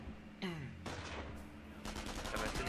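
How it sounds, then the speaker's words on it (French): Heavy machine gun fire in Company of Heroes, rapid rattling bursts of automatic gunfire with sharp repeated reports, mixed with other battle sounds and faint in level. "j'ai mis une unité de mitrailleuse lourde dans le bâtiment à couvert, hein, de façon à défendre le point"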